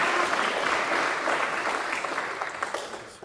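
An audience at a JROTC battalion award ceremony applauds the awardees, a sustained round of clapping that gradually fades toward the end, with no talking.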